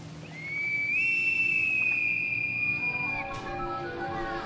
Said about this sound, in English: Then we hear a whistle like a bosun's pipe.